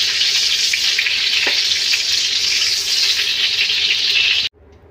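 Ghee heats in a kadhai for mango sheera, a loud, steady hiss of sizzling fat close by that runs unbroken and then cuts off abruptly near the end, with no talking.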